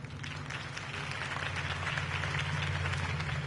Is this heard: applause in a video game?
yes